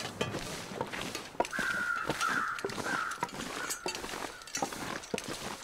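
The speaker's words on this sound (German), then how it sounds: "Ich habe gerade auch Krähen gehört" Crows caw repeatedly from moderate distance in the snowy wilderness of the survival game The Long Dark, a harsh call rising over steady wind and scattered clicks and footsteps.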